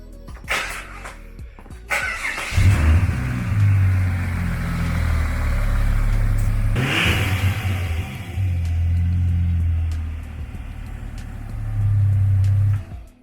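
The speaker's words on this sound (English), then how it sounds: "Alright, now it should start up." A rebuilt turbocharged six-cylinder engine cranks, fires and settles into a loud, close, slightly rattly idle, with a brief rev before it cuts off at the end.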